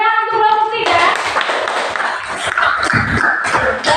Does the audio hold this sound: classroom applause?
yes